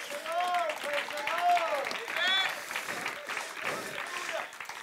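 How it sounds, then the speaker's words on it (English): Church congregation applauding in a hand clap of praise during a sermon, a steady wash of clapping with voices and music-like tones riding over it throughout. "Give the Lord a hand clap of praise."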